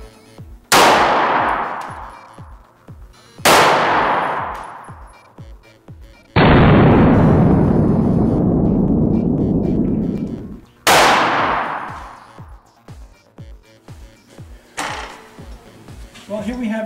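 Four sharp 9mm gunshots fired at an armor test target, loud and close, each with a long decaying ring, plus one sustained heavy burst of noise in between, with no talk.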